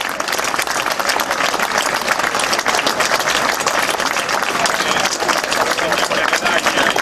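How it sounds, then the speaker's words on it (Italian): A crowd claps steadily for a local football club at a town celebration of its promotion, a dense, loud, continuous wash of applause heard up close with no break. "E qui è giusto fare l'applauso a tutti questi ragazzi."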